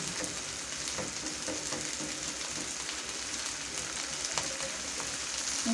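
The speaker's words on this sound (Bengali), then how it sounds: "পেঁয়াজটা হালকা একটু ভেজে নেওয়ার চেষ্টা করবেন" Onions frying lightly in a pan, a steady close sizzle and crackle lasting throughout with faint stirring, no voices.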